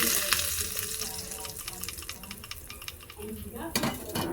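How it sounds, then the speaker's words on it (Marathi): Hot tempering (tadka) is poured into coconut chutney, giving a hissing sizzle with scraping and stirring clatter from the pan and a sharper splash-like burst near the end. "बस तेवढाच तडका देत आहे मी."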